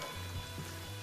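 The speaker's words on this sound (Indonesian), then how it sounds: "Jadi kalau goreng seperti ini nggak perlu lama-lama ya" Tender beef empal frying in a pan, a steady low sizzle with faint popping bursts under a constant hiss, close and moderately quiet with no voices.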